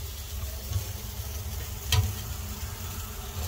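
Pork chop and eggplant sizzle over a charcoal grill in a Filipino ihaw setup: a steady, close hiss with one sharp crackle partway through and no talking.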